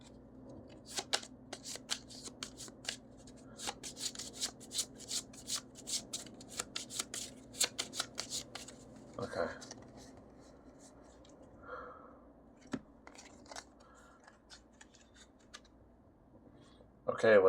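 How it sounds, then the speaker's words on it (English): A deck of cards is riffle shuffled during a Terminator Dark Fate game, with quick crackling bursts of riffling through the first half, then scattered soft clicks and handling noises, fairly faint and close. "It makes me want to riffle shuffle so that I can be sure that they are not stacked up"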